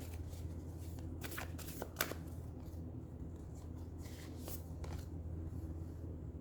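Oracle cards are shuffled by hand close to the mic in a quiet room. Soft papery riffles and flutters come in short bursts over a low steady background hum.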